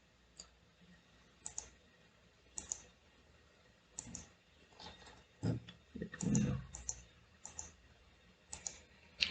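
Computer mouse clicks while a Selenium IDE test is recorded, sparse sharp single and double clicks spaced irregularly over a quiet background, close and fairly soft, no talking.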